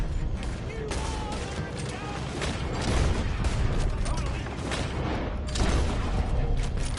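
A shootout in a PS4 video game, with dense, overlapping gunfire and booms from several directions that roll on steadily under a thick wash of battle noise.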